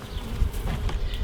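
Honey bees buzzing in a hive, a dense, close, continuous hum of many wings with no voices.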